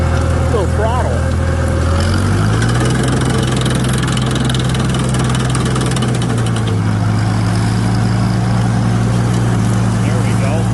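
A Farmall tractor engine runs at full throttle with a steady, droning mechanical roar, and its pitch rises and settles after the first couple of seconds. Voices are faintly present beneath it.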